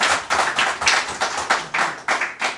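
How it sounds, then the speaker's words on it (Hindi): Close, distinct claps welcome poets onto the stage at a Holi poetry gathering: about ten sharp claps in a quick, fairly even rhythm, sounding like only a few hands. "मैं चाहूँगा कि आप मंच पर उपस्थित सभी कवियों का एक बार जोरदार तालियों से स्वागत करें"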